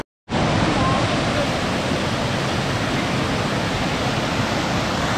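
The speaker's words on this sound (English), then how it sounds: "this is the bottom of the waterfall that we've just come along to have a little look at" Roaring waterfall in the Philippines, heard from near its base as a loud, continuous broadband rush of falling water that begins abruptly and holds steady throughout.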